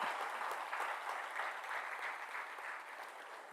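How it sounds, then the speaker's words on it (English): Audience applause for student directors at a talk event, a continuous, fairly soft wash of many hands clapping at steady intensity throughout. "they deserve a very big round of applause"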